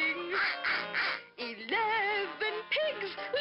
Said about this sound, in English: 11 ducklings quacking.